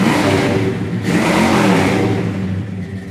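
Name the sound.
1970 Olds Cutlass 455 big block engine revving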